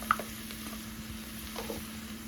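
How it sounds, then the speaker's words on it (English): Onions and olives sizzle quietly in a pan as a casserole cooks, a soft steady fizz with faint crackles and a stirring scrape or two. "I'm going in with my onions. I'm going in with my olives."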